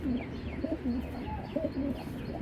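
A Giribaz tournament pigeon of the silver knot type coos close by in soft, rolling repeated calls, with light background noise and no talking.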